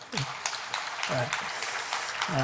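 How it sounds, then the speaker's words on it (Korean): A church congregation claps together in a sustained round of applause during a Sunday service, with a voice speaking over the clapping as it swells and continues to the end. "우리 박수 한번 쳐주세요."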